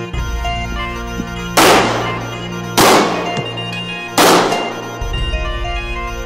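Three sharp pistol shots ring out, evenly spaced about a second apart, loud and close, during tactical firearms training outdoors.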